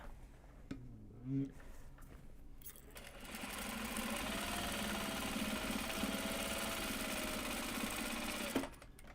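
A sewing machine stitching bags runs in a steady, fast mechanical whir for about six seconds, then stops abruptly as the bobbin thread runs out. A brief voice comes just before it starts.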